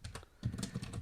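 Close, quiet typing on a computer keyboard, with a rapid cluster of soft key clicks and no talking.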